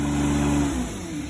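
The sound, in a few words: truck-mounted carpet cleaner engine with throttle turned down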